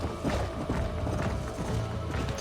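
Quick rhythmic hoofbeats of a galloping horse in the video game Red Dead Redemption play under a busy game soundscape, fairly faint and continuous throughout.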